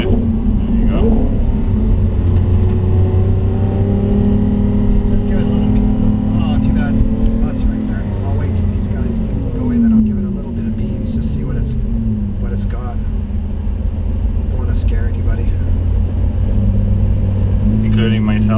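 Lamborghini Aventador engine after a downshift, a loud deep rumbling drone with rising and falling revs throughout, steady and close, as if heard from inside the car.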